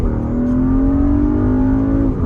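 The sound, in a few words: Porsche Cayenne S accelerating hard, turbo engine revving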